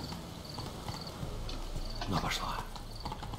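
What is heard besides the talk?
unicorn horse hooves clip-clopping in Witcher 3: Blood and Wine video game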